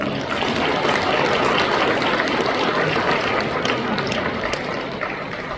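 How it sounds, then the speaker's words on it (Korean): A church congregation at a special lecture for a national men's mission association gives warm, continuous applause to welcome a visiting pastor, a dense, even clapping that fills the room without pause. "목사님 앞에 뜨거운 박수로 환영해 주시기 바랍니다."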